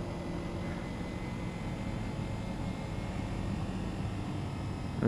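A four-cylinder engine idles nearby during a ride through a construction area, a steady low droning rumble with a constant hum that holds evenly throughout, with no voices over it.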